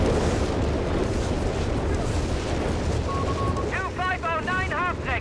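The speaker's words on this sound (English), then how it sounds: "Got a whiz-bang here, raining down death." A whiz-bang rocket artillery barrage from Company of Heroes 3 keeps up a loud, dense roar of blasts, and a run of rising, whistling rocket tones cuts through near the end.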